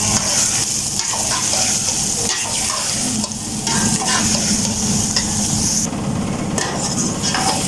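Finely chopped onion fries in a pan for karela piyaz, a steady loud sizzle with stirring and occasional scrapes of a spoon throughout, no voices.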